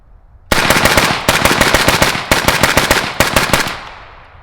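Suppressed LMT ION K 5.56 rifle fired in rapid strings of shots, loud and close, with short pauses between bursts and a fading echo at the end.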